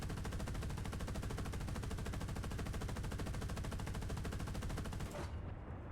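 A 20 mm autocannon firing in a tank combat video game, a continuous rapid-fire rattle of evenly spaced shots for about five seconds, loud and close, then cutting off abruptly into a low rumble.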